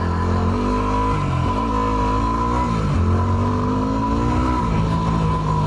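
A Yamaha WR250R dirt bike on a trail runs steadily loud and close, its engine pitch rising and falling through several revs and shifts over a continuous drone, with no talking.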